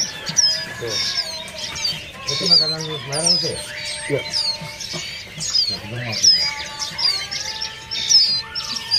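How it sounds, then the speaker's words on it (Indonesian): Young mountain ciblek birds at a bird market give thin, high chirps in quick repeated bursts, close and lively, while people talk nearby. "Di sini ada burung lolohan ciblek gunung ya"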